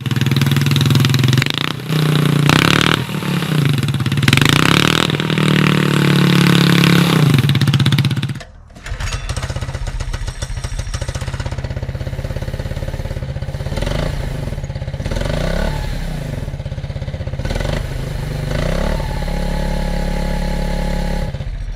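A small minibike engine fitted with a car muffler and homemade header pipe revs loudly, then after a brief cutoff settles into a raspy, throbbing idle with occasional blips of throttle, close and continuous.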